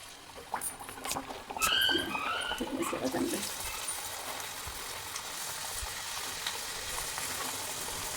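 Oil sizzles and spits in a frying pan, a steady hissing crackle that swells after a couple of seconds and then holds at an even level close by, with a few clinks near the start.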